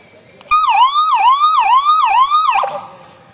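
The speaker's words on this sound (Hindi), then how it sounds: "इस प्रकार का एक सायरन दे के रुक जाएं" A loud, nearby police motorcycle siren wails in a quick repeating up-and-down pattern for about two seconds, then cuts off abruptly.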